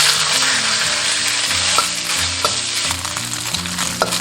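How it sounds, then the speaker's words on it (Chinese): Minced meat hisses loudly in an oiled wok as it is stir-fried fast for a Chinese eggplant casserole, a dense continuous sizzle broken by scraping stirs and a few sharp clacks, with no voices. "下入肉末，快速炒炒。"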